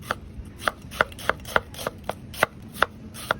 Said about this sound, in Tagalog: nagayat po tayo ng ating white onions